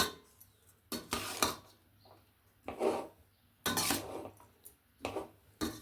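A spoon scrapes and clinks against a pan in short bursts, mixing rice with spice powder for curry leaf rice, with pauses between strokes, close and fairly quiet.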